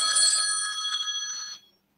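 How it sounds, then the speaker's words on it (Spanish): A phone's bell-like electronic ring sounds clearly and alone, as one sustained trill for about a second and a half before it cuts off into silence. "me llaman por teléfono"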